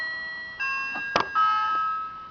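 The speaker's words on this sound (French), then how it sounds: "Là, on a le truc pour le son de la sonnette. Et la sonnette." Electronic chime of a Playmobil toy house doorbell, a few short bright tones with steady ringing partials over about two seconds, close and moderately loud in a quiet room.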